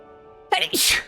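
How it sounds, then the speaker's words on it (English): One person gives a sudden, close sneeze in two loud bursts after a quiet moment with a faint background hum. "Oh, I need to sneeze."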